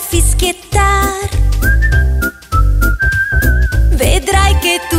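A whistled melody carries an Italian children's pop song, the bright tune weaving over steady backing music, sustained notes sliding between phrases with brief dips in the accompaniment.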